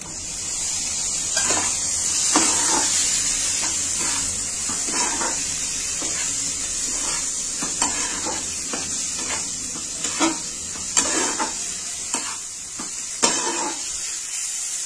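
Tomato tipped into a pan of hot spices with turmeric and Kashmiri chilli powder for an egg tadka dal, giving a continuous bright hiss of sizzling oil with light clicks and stirring taps throughout, no voices.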